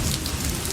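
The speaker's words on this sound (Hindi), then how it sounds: "एक दिन मौसम बहुत खराब हो गया और मूसलाधार बारिश होने लगी।" Heavy torrential rain pouring steadily as a dense, continuous hiss and patter, loud and even throughout the short stretch, with no voices.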